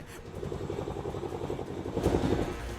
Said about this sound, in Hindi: अब जान बचाने के लिए हेलीकॉप्टर उड़ रहे हैं।